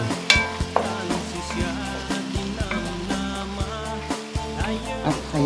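Fresh tomato frying in a pan for octopus pasta, a steady sizzle broken by repeated utensil scrapes and stirring taps, close and fairly loud.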